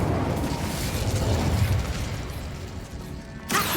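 Incendio fire spell cast in Hogwarts Legacy: a loud whooshing burst of flame with rumbling low end that fades, then a second sharp magical crackle near the end.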